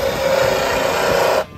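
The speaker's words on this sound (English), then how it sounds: "drilling the thru-hull from the inside" A power drill bores a thru-hull hole through a yacht hull from inside, giving a steady, loud grinding whine that cuts off abruptly near the end.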